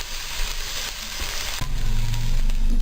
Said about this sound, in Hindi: अब मैं इसमें जिंजर गार्लिक पेस्ट डाल दूँगी, इसको भी साथ में मिक्स कर दूँगी